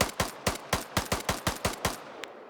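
A rapid burst of about ten gunshots fires in a PvP shooter video game, sharp, loud and evenly spaced, ending in one fainter distant crack.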